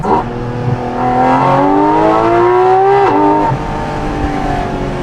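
A Porsche Cayman GT4RS with a valved titanium rear exhaust revs close by, its loud flat-six note sweeping up in pitch, dropping at a gear change, then settling back.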